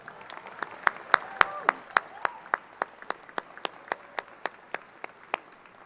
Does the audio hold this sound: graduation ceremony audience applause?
yes